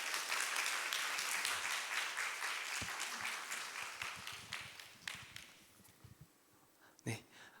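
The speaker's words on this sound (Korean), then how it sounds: "큰 박수로 우리 환영하도록 하겠습니다" A church congregation at a family worship service claps to welcome the pastor, a full round of applause that gradually thins out, with a few scattered claps and brief sounds near the end.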